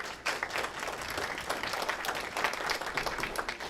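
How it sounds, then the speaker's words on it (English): A crowd at a high school robotics awards ceremony applauds steadily, dense clapping sustained from start to finish without talk. "Let's just give all the students a round of applause."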